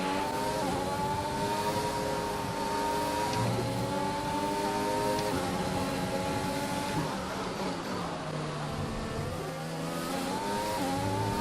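Formula 1 cars from the racing game F1 2021 at the Australian Grand Prix, engines screaming at high revs with steady, continuous whine and shifting pitch as gears change, loud and close with no talk.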